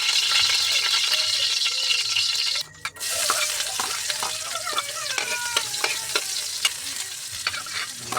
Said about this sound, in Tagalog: Kaya ako nang igisa ang mga lamas.